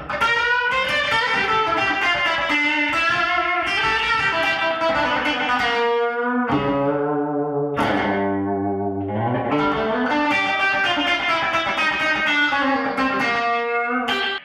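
Gibson Firebird electric guitar with humbucking pickups played with heavy effects, sustained chords and a melodic phrase ringing out loud and continuous, with a brief lower, sparser passage in the middle before full chords return.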